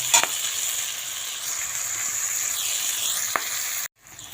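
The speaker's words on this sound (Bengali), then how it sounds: "আলুটা ভাজা হয়ে গেছে" Potatoes frying in a pan give a steady close hiss and sizzle with a couple of faint clinks, cutting off abruptly near the end.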